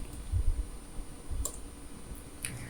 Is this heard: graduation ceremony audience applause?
no